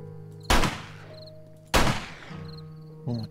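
Gunfire in the survival video game 7 Days to Die: two loud, sharp bursts about a second apart, each with a decaying tail, then a third shorter shot at the end, over a steady low game hum.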